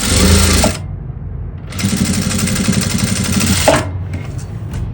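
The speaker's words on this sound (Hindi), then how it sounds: "इस तरह से पट्टी को बिल्कुल प्रॉपर अंदर की साइड में फोल्ड करते हुए सिलाई लगाएंगे।" A sewing machine stitches a folded neck strip onto a princess-cut blouse, running in two close, steady bursts of rapid, even whirring with a short pause between and a brief start at the end.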